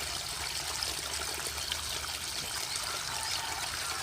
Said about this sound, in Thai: เปิดน้ำใหม่ใส่นะฮะ